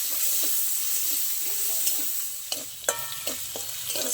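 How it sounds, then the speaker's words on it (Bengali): Whole garam masala (cardamom, cinnamon, cloves) and cumin-coriander paste fry in hot oil with a constant bright sizzle, joined later by a few sharp scrapes and knocks of a spoon stirring the pan. "এবার একসাথে ভালো করে একটু ভেজে নেব।"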